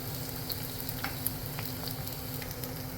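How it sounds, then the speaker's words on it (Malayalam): Ginger and garlic sautéing in a pan for a fish curry, giving a steady, close frying sizzle with a few faint scrapes of stirring, and no voices. "ഇഞ്ചിയും വെളുത്തുള്ളിയും ചേർത്ത് കൊടുത്തിട്ട് ഒന്ന് വഴറ്റി കൊടുക്കാം"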